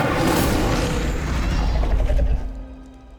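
A fiery Incendio spell erupts in Hogwarts Legacy, a loud roaring whoosh of flame and booming rumble that holds steady for a couple of seconds, then cuts off abruptly into near quiet.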